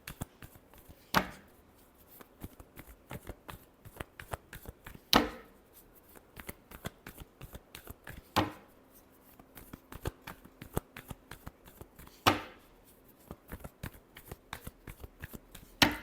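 Tarot cards are shuffled in repeated quick riffles and flicks, crisp and close, with sharp slaps every few seconds and no talking.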